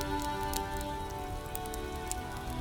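Steady rain falls in an even, constant patter, with scattered louder drops and a faint tonal hum underneath.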